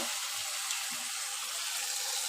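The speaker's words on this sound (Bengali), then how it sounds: "এবার আমি মশলাটার মধ্যে একটু জল দিয়ে মিক্সি বাটিটা ধুয়ে" Water running and swishing while a mixer grinder jar of ground masala for egg malai curry is rinsed out, a steady faucet-like wash with a few soft knocks, fairly quiet and continuous.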